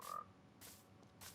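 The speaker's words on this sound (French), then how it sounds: "on va commencer par la grenouille verte, écoutez" Green frog croaking in Minecraft, three short, evenly spaced croaks heard alone and faint over a quiet background.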